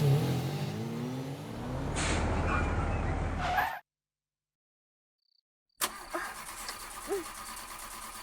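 A car engine revving and straining before abruptly cutting out as the vehicle breaks down, followed by a moment of silence and then quieter background sounds.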